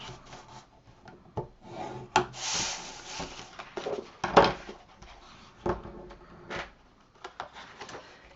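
Paper scored on a scoring board with a scoring tool for a folio craft project, a series of soft, quiet rubbing and scraping strokes, some short and some longer, with brief pauses between them.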